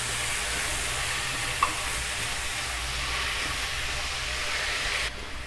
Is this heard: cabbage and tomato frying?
yes